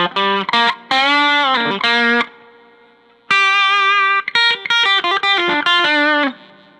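Squier Debut Telecaster played through its bridge pickup with distortion, bright driven chords and single notes in short strummed bursts separated by brief gaps and a sustained ringing stretch.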